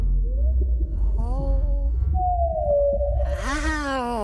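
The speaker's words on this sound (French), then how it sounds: "C'est le cri des baleines bleues, l'animal sous-marin le plus bruyant du monde." A blue whale calls underwater, long low moaning tones that slide and waver in pitch, loud and sustained, ending in a rising, brighter sweep.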